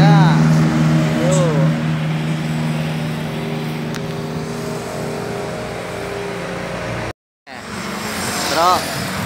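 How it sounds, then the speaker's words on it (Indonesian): Heavy trucks roll past on a road, a loud continuous engine rumble with rising and falling whines, near and passing by. Voices talk over the traffic, and the sound drops out briefly near the end. "Tronton lewat. Dua tronton sekalian."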